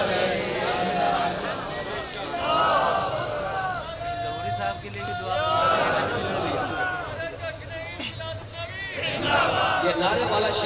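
At a religious gathering marking 12th Rabi-ul-Awal, a crowd chants a slogan in rising waves of many voices shouting together, loud and near, separated by brief lulls.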